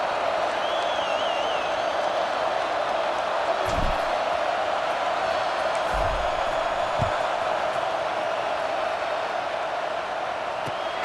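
A football stadium crowd roars steadily and loudly throughout a Maryland versus Michigan college game at kickoff, a continuous wash of noise with a few faint thumps.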